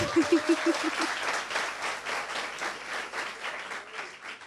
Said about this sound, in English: So a louder round of applause for our school